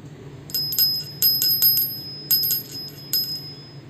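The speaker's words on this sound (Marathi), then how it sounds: "एवढा मधुर आवाज कास्याचाच येतो, घुमतो हा आवाज घरात." A small bronze bell rings in a series of bright, quick strikes, clustered in short bursts with ringing tones that linger and hum, close and clear in a quiet indoor room.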